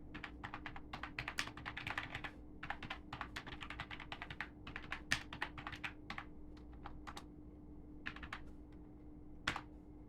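Fingers type a command into a terminal on a computer keyboard, a quiet, close run of quick irregular key clicks in short bursts over a low steady hum, with no talk.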